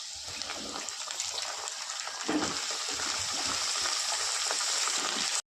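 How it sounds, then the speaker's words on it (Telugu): Brinjal pieces hit hot tempering oil with curry leaves and fry in a loud, steady hiss and sizzle, a dense crackling rush that holds evenly for several seconds before cutting off abruptly. "ఇప్పుడు దీనిలో వంకాయ ముక్కలు వేసుకుందాం."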